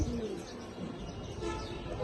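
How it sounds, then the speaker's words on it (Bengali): Jelly-eyed pigeons give low, soft coos, one drawn-out call at the start and another around the middle, over a hissy, busy background. "এগুলো হচ্ছে জেলি চোখের কবুতর"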